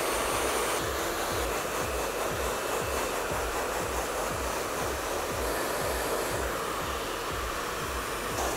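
A hair dryer blows steadily and loudly for the whole stretch, a constant rushing whoosh with a low motor hum underneath.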